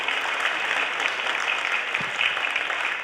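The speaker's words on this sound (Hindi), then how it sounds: "मित्रों एक बार जोरदार तालियां होनी चाहिए" Steady, moderately faint audience applause from a crowd at a literature festival in Delhi, an even wash of clapping without voices.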